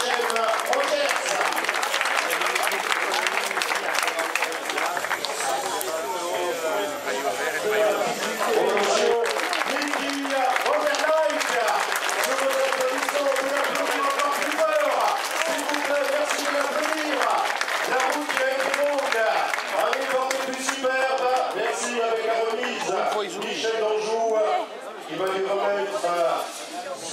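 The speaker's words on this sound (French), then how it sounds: "vous pouvez applaudir une nouvelle fois Hachem Rogers." Roadside crowd at a Brittany cycling stage race in Plouguernével-Rostrenen applauds a world pursuit champion cyclist, sustained clapping and cheering mixed with an announcer's voice over a PA throughout.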